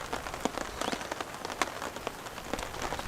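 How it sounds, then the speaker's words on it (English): Light rain pattering on a tent and tarp at a campsite, a steady crackle of individual drops with scattered louder taps and no voices. "Camping in the rain, everyone."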